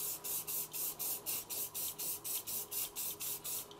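Spray paint hisses onto a clear 3D-printed part in a rapid series of about a dozen short, even bursts, close and fairly quiet, with no voices.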